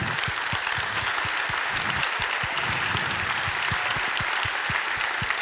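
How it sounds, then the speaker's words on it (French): An audience at the Côte-d'Or business awards ceremony applauds winners of the sustainable development trophy: dense, loud, continuous clapping from a large crowd, steady throughout. "On peut les applaudir."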